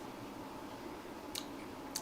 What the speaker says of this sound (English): And then I chew some more until I'm done.